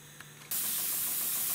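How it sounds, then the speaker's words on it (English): Steam bursts out of a kettle-built steam engine boiler, a sudden loud hiss that starts abruptly and keeps spraying steadily. "I'm losing a lot of steam, as you can see, just coming out of there like crazy."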